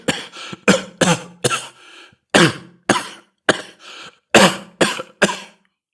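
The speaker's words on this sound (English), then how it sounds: "How long have you had that cough?" Someone coughs repeatedly up close in harsh, rasping bursts, a dozen or so coughs in an uneven rhythm with short pauses.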